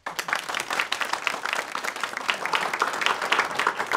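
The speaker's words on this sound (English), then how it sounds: "Cue audience applause." Studio audience applause at a live television show, dense close clapping building slightly and continuing steadily throughout with no speech.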